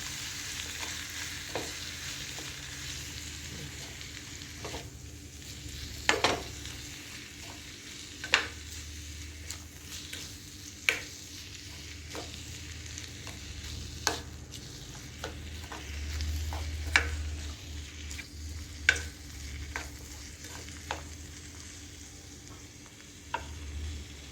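Squid thoran stir-frying in a pan, a low steady sizzle broken by repeated sharp spatula scrapes and clinks against the metal at irregular intervals, close and unaccompanied by talk for over twenty seconds.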